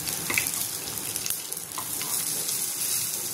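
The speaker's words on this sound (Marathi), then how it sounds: "सर्व तेल टाकायचं, होऊ द्यायचं." Mixed lentil appe fry in oil in an appe pan, giving a constant crackling sizzle with a few louder pops near the start and no talking.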